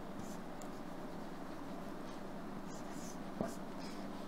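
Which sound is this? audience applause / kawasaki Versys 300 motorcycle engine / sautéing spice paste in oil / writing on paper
writing on paper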